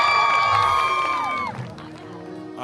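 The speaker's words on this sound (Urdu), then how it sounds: "آپ کی بھرپور تالیوں میں تشریف لاتے ہیں" An audience at a Quaid-e-Azam Day special TV programme cheers and claps loudly as a guest is welcomed, with music tones ringing over the crowd noise, which fades slightly toward the end.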